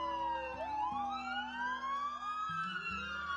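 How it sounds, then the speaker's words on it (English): Emergency siren wailing with sweeping rising and falling tones, loud and continuous, mixed with engine rumble in the background as vehicles respond to an injured woman. "They even called the ambulances for her."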